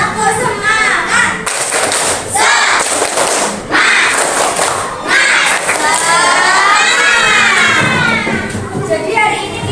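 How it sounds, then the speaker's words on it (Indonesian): Grade 5 schoolchildren in a classroom perform the tepuk semangat clapping chant, loud and close, with children's voices shouting in unison and bursts of rhythmic clapping and thumps between the chanted phrases. "Sebelum belajar kita tepuk semangat dulu ya."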